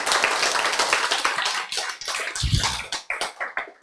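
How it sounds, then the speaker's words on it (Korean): Audience at a health lecture breaking into clapping, a dense burst of applause that thins into scattered, uneven claps near the end. "박수! 와!"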